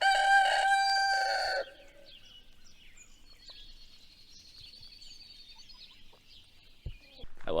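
A rooster crows loudly and close at a chicken coop on a foggy early morning, one long call, followed by quieter clucking and a chorus of birds chirping in the background, then a short sharp sound at the end.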